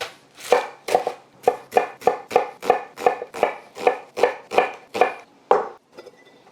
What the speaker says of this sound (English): Speaking of our onion, we're gonna give this one a bit of a rough chop.